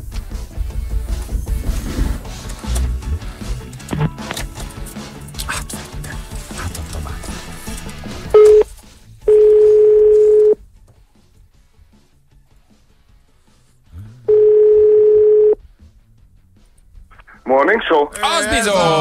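Telephone call to a radio listener on a Hungarian morning show: after studio chatter, two long steady dial-tone beeps separated by silence, then the line picks up.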